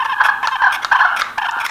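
Push-button turkey call with a small spring-loaded slate, pressed repeatedly to make loud, close, raspy gobbling yelps in quick bursts with short gaps, no voices.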